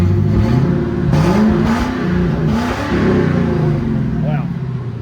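Ford F250 pickup engine with a modified exhaust revving loud and close, deep rumbling pulses rising and falling steadily throughout, with a voice speaking over it.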